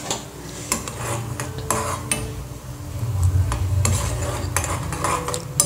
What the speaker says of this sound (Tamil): இது பாகு காய்ச்சி வடிகட்டிக்கலாம்.